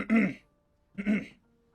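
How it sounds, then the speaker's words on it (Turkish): Someone clears their throat twice, two short raspy rough bursts about a second apart, close and alone with quiet between them. "Ne zaman boğazımı temizlesem annem öyle diyor."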